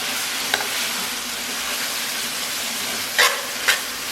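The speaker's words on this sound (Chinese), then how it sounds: "简单再给它煸炒一下" Pork belly stir-fried in a wok with scallion, ginger, soy sauce, soybean paste and tomato gives a steady close sizzle and hiss, with a few brief clicks of the spatula stirring.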